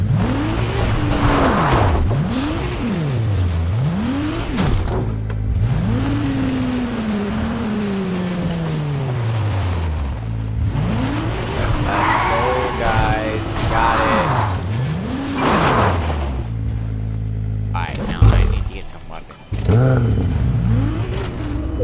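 A Ferrari in Fortnite revs and drives, its engine pitch rising and falling through repeated gear shifts, loud and close, with a voice talking over it.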